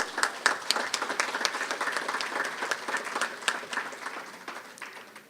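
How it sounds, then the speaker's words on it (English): A large audience at a St. Kitts and Nevis Labour Party political rally gives sustained, dense applause, with many hands clapping at once and some crowd noise, steady for several seconds and then tapering slightly. "a joyous, tremendous round of applause"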